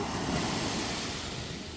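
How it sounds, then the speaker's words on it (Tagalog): Strong ocean surf at White Sand Beach in Davao Oriental, a continuous loud roar of breaking waves with wind buffeting the microphone throughout. "Ang lakas ng alon dun, oh."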